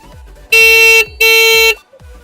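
A PRM-brand motorcycle horn sounds two loud, close, steady blasts of about half a second each, separated by a short gap, over a quiet background.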